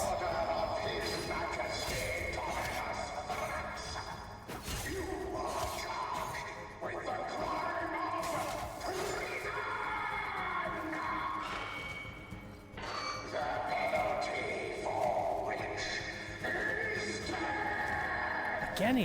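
Horse neighing and galloping in Warframe, with whinnies and hoof clatter among crashes and whooshes in a busy game scene, loud and close, with a voice talking over it.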